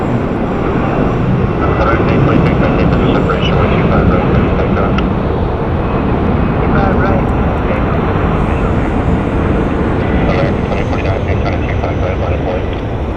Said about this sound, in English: Taking off now is American Eagle 4940 going to Bakersfield